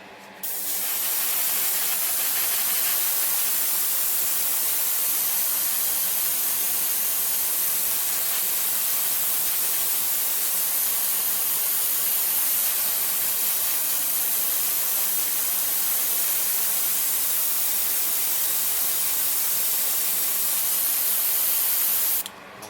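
Spray paint coat going onto a Bandai Macross plastic model kit, one continuous loud hiss from the spray can lasting about twenty seconds with a brief start and stop at either end, no talking.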